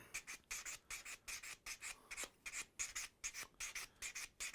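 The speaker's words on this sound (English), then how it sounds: "It's just a sponge with various grades of sandpaper on here again." A cue tip is sanded with a sandpaper sponge in quick, even back-and-forth strokes, each a soft rasping scratch. The rhythm is steady and close-miked but quiet, with no talk.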